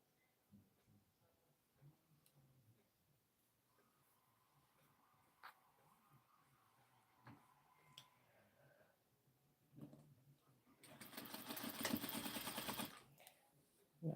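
A serger runs along the cut hem of a knit jacket sleeve in one loud, dense burst of rapid stitching near the end, after a stretch of quiet handling and faint clicks.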